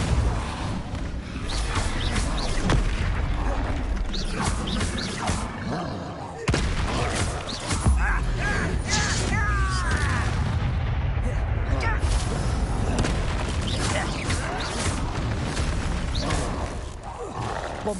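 Spell blasts in the video game Hogwarts Legacy, including Bombarda explosions, fire in quick succession as a loud, dense barrage of booms and roaring impacts. The chaotic rumble carries on without pause across the whole stretch.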